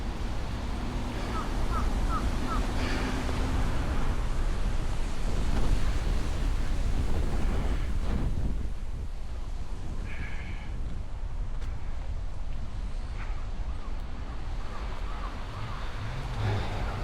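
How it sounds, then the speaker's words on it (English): Steady wind blowing across a mountain observation platform on Mt Yokoo, a continuous broadband rush of air with gusty buffeting on the microphone throughout, no talking. "this wind is keeping me pretty cool"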